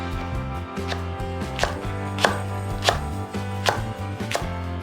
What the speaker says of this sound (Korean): 고추 2개도 1cm 길이로 썬다